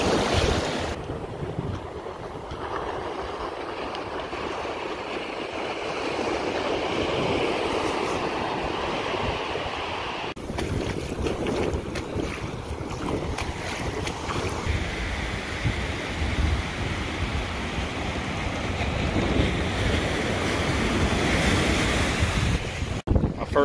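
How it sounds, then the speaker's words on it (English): Surf washes and crashes steadily along a Maine shore, with heavy wind buffeting the microphone and a constant roar of breaking waves and no voices. "A giant wave came and smacked me right in the face."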